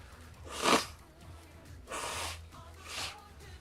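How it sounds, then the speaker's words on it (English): Someone blows their nose: one sharp, forceful blast followed by two longer, softer honking blows, close to the microphone in a quiet room. "I gotta blow my nose."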